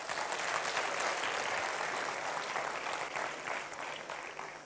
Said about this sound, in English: Can we give a round of applause to Ayushi?